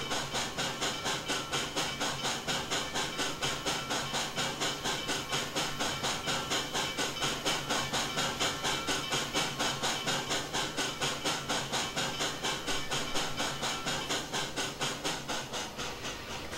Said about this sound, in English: The locomotive runs nice and smooth.